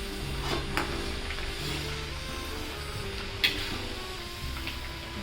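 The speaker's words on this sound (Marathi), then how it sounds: "हा फेस जाईपर्यंत आपल्याला मसूर व्यवस्थित तळून घ्यायचे आहे" Steady close sizzling of masoor lentils deep-frying in hot oil in a kadai, with a soft crackle and a few light clicks of a utensil against the pan.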